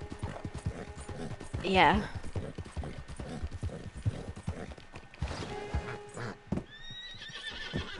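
Horse hooves clip-clop steadily alongside a whinny in Red Dead Redemption 2, with someone talking briefly over the game sounds.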